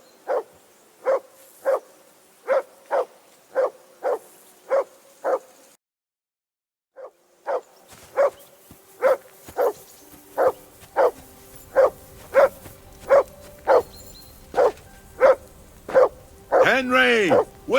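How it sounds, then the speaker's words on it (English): A dog in the video game Kingdom Come: Deliverance 2 barks repeatedly in a steady, evenly spaced rhythm, pausing briefly before resuming with the same regular barks, loud and close. "Whistle at that mutt of yours to stop barking!"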